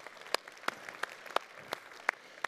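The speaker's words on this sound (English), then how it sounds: "please give a big round of applause" Quiet, scattered clapping rises from a conference audience at a NATO security forum, with a few distinct hand claps spaced out over a soft background.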